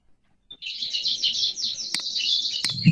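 Songbird calling close by with a dense, continuous run of high chirps and trills, broken by a couple of sharp clicks and a brief low thump at the end.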